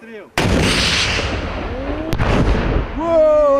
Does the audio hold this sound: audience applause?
no